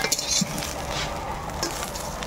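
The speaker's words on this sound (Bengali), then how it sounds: "ঘি দিয়ে কচুটা ভেজে নিলাম" Taro frying in ghee in a pan as it is stirred, a steady close sizzle with scraping stir strokes and a light clink of utensil on metal.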